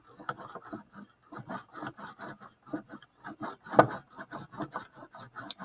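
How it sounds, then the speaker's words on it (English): A brayer rolls ink across a lino printing plate in a quick series of close, evenly spaced gritty strokes, each a short scraping burst with small gaps between, and no one speaks. "add my ink to my plate. Use my brayer to kind of spread it out."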